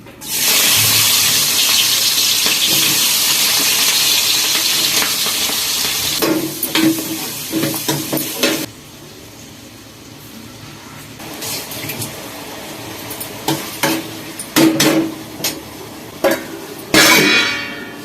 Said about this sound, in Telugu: పసుపు వేసుకున్నాను ఉల్లిపాయ పచ్చిమిరపకాయ ముక్కలు వేసుకున్నాను